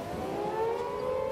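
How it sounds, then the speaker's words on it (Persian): An air raid siren wails steadily, with a sustained tone that rises slightly in pitch, heard at moderate volume with no voices. "صدای آژیر شروع شد"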